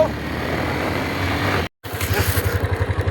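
A sports motorcycle being push-started drones loudly until a brief dropout, then fires into a quick, even train of throbbing engine pulses up close.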